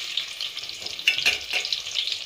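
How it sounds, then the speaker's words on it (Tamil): Onions sautéing in a pan of oil with whole spices like fennel, bay leaf, cinnamon, stone flower and cloves, giving a steady close sizzle with a few scraping stirs partway through. "வெங்காயம் நல்லா வதங்கிருச்சு."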